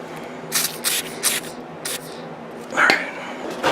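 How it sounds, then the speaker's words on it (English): Several short hissing bursts of penetrant spray on rusty wheel hub bolts of a 1992 Chevrolet K1500 pickup, four quick sprays close by followed by a longer one, with faint clatter between them. "we're going to spray them down,"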